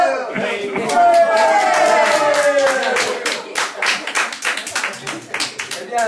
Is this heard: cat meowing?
no